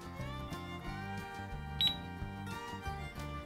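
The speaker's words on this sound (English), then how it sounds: "so let's use the cash register" A toy cash register plays a jingly electronic tune with a bright chime near the middle, steady and close, with no one talking over it.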